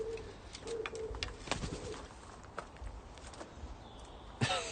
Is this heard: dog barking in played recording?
no